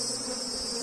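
Honeybees swarm off a shaken hive frame, producing a dense, continuous buzzing drone that stays loud and close for the whole brief moment.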